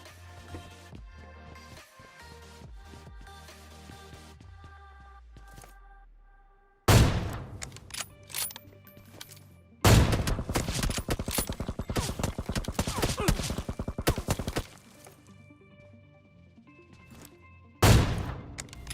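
Gunfire in a shooting video game, with loud automatic spray bursts that start abruptly, run in sustained rapid volleys and stop, punctuated by sharp single shots. There is no talk over it.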